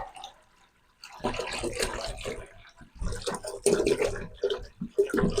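Distilled water pours and splashes steadily from a gallon jug into a container, close up, with a brief quiet pause before the flow starts.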